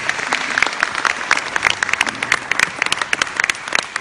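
A festival audience breaks into steady, dense applause at a Punjabi film festival's Sufi night, many hands clapping loudly and continuously throughout.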